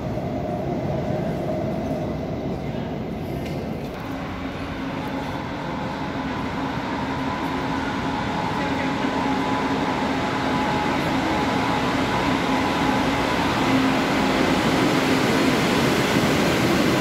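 An old S-Bahn train pulling away, with a loud, steady rumble of wheels on rails, a rising tonal whine and faint squeals, continuous and close throughout.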